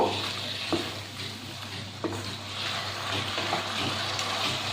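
Sour curd being stirred into masala in a pan over low heat, a soft wet stirring and gentle sizzle with a few spoon scrapes, close but fairly quiet, no voices.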